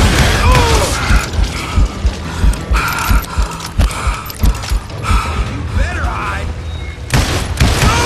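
Rapid gunshots and mechanical clanks from the Western shooter video game Call of Juarez Gunslinger, firing in quick irregular bursts, loud and close, with spoken voices mixed in.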